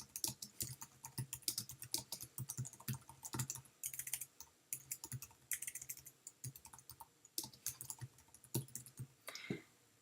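Rapid, irregular clicking of keys on a computer keyboard, typed close up in quick bursts with short pauses and no voices.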